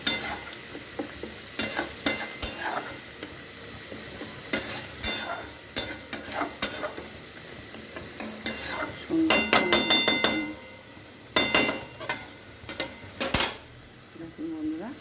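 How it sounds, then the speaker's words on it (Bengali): Masala spice paste frying and being stirred in a kadai, with steady sizzling broken by repeated scraping strokes of a spoon and clinks of utensils against the pan, close and fairly loud. "দেখুন বন্ধুরা এইখানে আমার মশলা কষানো হচ্ছে"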